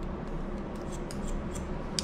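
Scissors snip through hair during an anatomical haircut for a pointed face shape, worked together with a comb; quiet, sparse crisp snips at an even pace over steady low background noise, with no talking.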